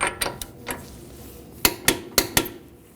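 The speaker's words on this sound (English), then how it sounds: "We'll torque this to 140 foot-pounds." Sharp metallic clicks of a torque wrench tightening the rear axle nut on a 2013-2015 Subaru XV Crosstrek to 140 foot-pounds, with a few spaced clicks early on and four louder, evenly paced clicks near the end.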